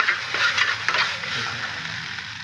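Masala frying in a pan is stirred, giving a steady sizzle with scraping strokes of the spoon, close and continuous without any voices.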